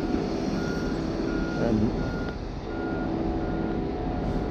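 A concrete truck arriving at a concrete pumping job gives a steady, repeated reversing beep over low engine rumble, at moderate distance, with a brief spoken word.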